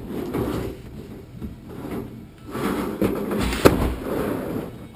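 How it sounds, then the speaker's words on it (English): A plastic IBC tote tank is worked loose from its metal cage, giving scattered muffled thumps, scrapes and knocks with a sharper bump near the end, fairly quiet and close by. "Now I'll remove the tank from the cage"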